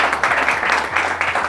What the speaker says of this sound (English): welcome him with a loud, thunderous round of applause